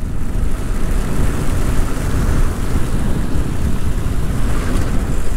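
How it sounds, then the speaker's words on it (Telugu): Heavy rain pours steadily and loudly around a rider on the road, a dense, unbroken wash of noise with wind roar and no speech. "ఫుల్ వర్షం పడుతుంది."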